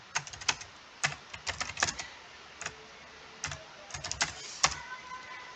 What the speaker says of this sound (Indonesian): kita ketik nama host Google